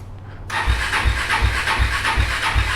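A KTM RC390 cup race motorcycle cranks slowly on a cold start with race fuel in the tank and a weak battery. The starter begins abruptly and then labours in a steady, sluggish rhythm of roughly two turns per second, loud and close, without catching.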